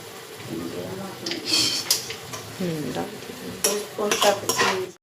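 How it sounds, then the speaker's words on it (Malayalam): Spices are stirred in a cooking pan with soft scraping and light metallic clinks over a gentle sizzle, while a person talks throughout. "നമുക്ക് നന്നായിട്ടൊന്ന് ഇളക്കാം"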